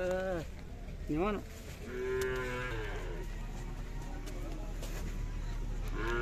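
Several large bulls moo near at hand at the Magasuli village fair in Belagavi district, Karnataka, long drawn-out calls overlapping, with a steady crowd-like background hum and voices talking underneath.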